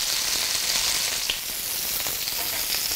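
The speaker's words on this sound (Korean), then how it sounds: "저는 마저 그릴 자국을 예쁘게 내어줄게요" A steak sears on a hot grill pan, giving a continuous loud sizzle and crackle with small pops throughout.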